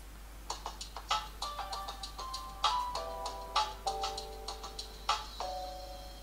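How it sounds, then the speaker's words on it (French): A smartphone plays its startup chime as it powers on after a battery replacement: a short sequence of bright, bell-like tones in a gentle rhythm, fairly clear and close with no talking. "Bon, le téléphone s'allume."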